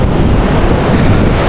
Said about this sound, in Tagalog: Grabe, malaki ng alon mga master